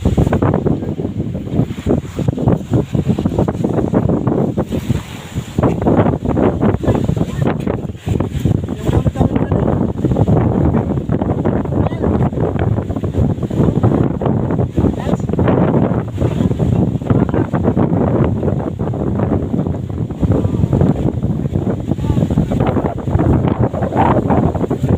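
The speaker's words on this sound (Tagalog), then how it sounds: "Malakas yung hangin dito" Strong wind by the sea buffets the microphone in constant loud roaring gusts, with a steady rumble that swells and dips throughout.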